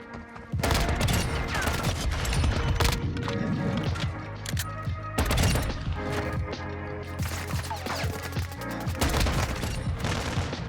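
Rapid pistol fire from dual GS Magna .50 GS handguns in Modern Warfare II, dense overlapping bursts of loud shots with game explosions and effects running nearly continuously.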